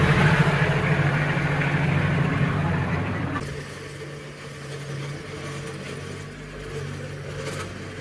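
A Massey Ferguson mini tractor engine runs steadily at idle, a low chugging rumble that drops slightly in level partway through and continues evenly.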